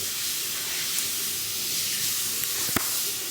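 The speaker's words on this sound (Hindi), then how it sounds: "ये मैं अपने बच्चों के लिए पैनकेक बना रही हूँ" Pancakes cook in a hot pan, giving a steady, close sizzling hiss that runs without a break, with a single sharp tap near the end.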